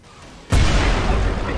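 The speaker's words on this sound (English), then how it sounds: "Next is the M79 grenade launcher." An M79 grenade launcher round explodes in Killing Floor 2, one sudden loud boom after a quiet moment, then a broad rumbling blast that lingers and slowly fades.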